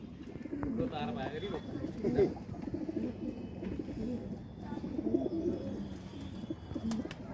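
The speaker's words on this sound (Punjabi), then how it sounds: "ਲਓ ਭਾਈ ਹਿਸਾਬ ਉੱਡਣ ਵਾਲੇ ਕਬੂਤਰ" Homing pigeons are handled and released outdoors. Soft cooing and some bird calls sit under someone talking over a low background rumble.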